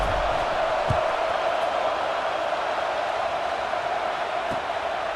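Steady stadium crowd roar from a college football video game, a broad continuous wash of noise at an even level throughout, with no talk over it.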